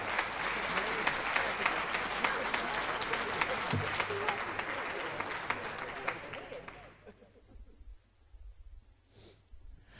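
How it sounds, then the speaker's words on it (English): A banquet audience applauds award winners at a high school hall of fame event, dense steady clapping for about seven seconds that then fades quickly into quiet room sounds. "Let's give our 2017-18s a round of applause."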